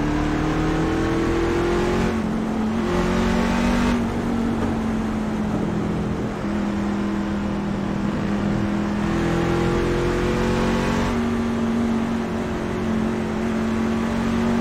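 A race car engine in the iRacing sim revs hard and continuously, its pitch climbing and dropping through repeated gear shifts, loud and close with no talking.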